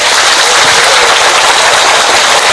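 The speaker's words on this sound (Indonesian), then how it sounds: "Tepuk tangan sik" Dense applause from a large congregation at a Ramadan religious gathering in Magelang, Java, a loud unbroken roar of clapping with no talk over it.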